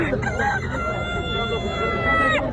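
A rooster crows loudly and close at a Friday market in Al-Ahsa, one long drawn-out call that fades near the end.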